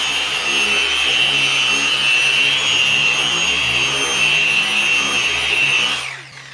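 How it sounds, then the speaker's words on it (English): A machine polisher runs a pad over an automotive paint finish, giving a loud, steady high whir with grinding friction beneath it before it winds down at the end. "go ahead and get started polishing."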